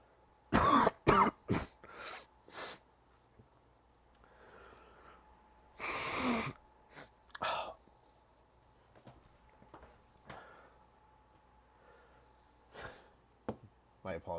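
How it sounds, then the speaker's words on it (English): A sick person blows their nose close to the microphone: a cluster of sharp, forceful bursts, then a longer honk and a few scattered snorts, with quiet gaps between them. "I'll probably try to mute next time I have to blow my nose."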